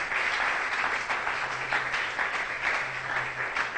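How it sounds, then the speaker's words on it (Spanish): A church congregation applauds for the Lord, a steady crowd of clapping hands with a faint low hum beneath, continuing evenly without speech. "¿Cuánto le dan un aplauso al Señor?"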